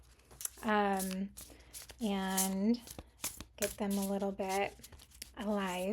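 Oracle cards are shuffled by hand in quiet, crisp bursts of riffling and sliding, heard between stretches of someone speaking softly.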